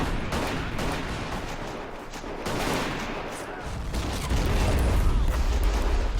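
A concentrated volley of rifle and gunfire in the WW1 urban-warfare game Battle of Empires 1914-1918, with dense crackling shots in rolling bursts, distant booms and a low rumble building toward the end.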